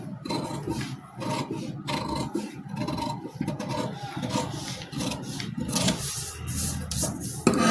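Scissors cut through blouse fabric at the armhole, a steady close rasping, scraping texture running continuously with little pause.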